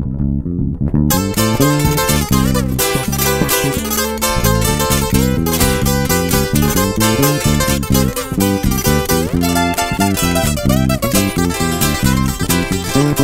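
A live corrido band from Tijuana plays a dense, loud, continuous ensemble with steady rhythmic bass and bright strummed and plucked strings, no voice.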